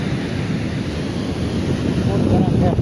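Sea waves wash against the shore near Somnath with a continuous loud rushing roar, mixed with heavy wind buffeting the microphone.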